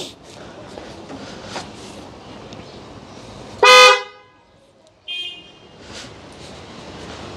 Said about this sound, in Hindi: वायर तो प्रॉपर हो गई है, हॉर्न बजा के देख लेते हैं दोबारा एक बार।